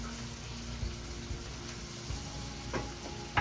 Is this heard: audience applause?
no